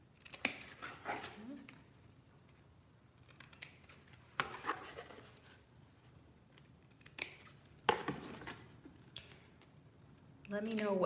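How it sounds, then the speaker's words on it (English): Scissors snip through a mini Christmas folio journal made with fabric, cutting at the joints in several short, close bursts separated by pauses, with a louder rustle of handling at the end. "I'm gonna cut at the joints as well."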